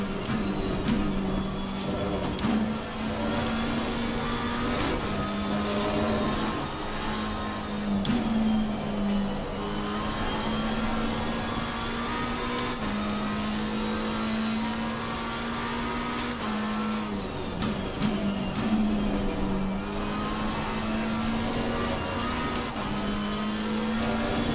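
Race car engines from Assetto Corsa Competizione GT racing at Barcelona, including a Porsche and McLaren, droning steadily at high revs with brief dips during gear shifts, loud and continuous throughout.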